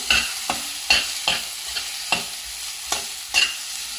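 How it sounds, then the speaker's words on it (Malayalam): Chopped banana fries in ghee in a kadai for banana payasam, a spoon scraping and stirring in about eight evenly spaced strokes over a low sizzle, close and clear. "ഇതാ ചൂടായപ്പോൾ ഒരു ടീസ്പൂൺ നെയ്യിട്ടു. ഇതാ അതിൽ പഴം അരിഞ്ഞത് നോക്കൂ, പഴം അരിഞ്ഞതിട്ടു."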